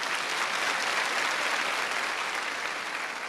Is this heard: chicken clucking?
no